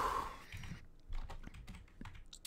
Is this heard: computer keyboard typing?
yes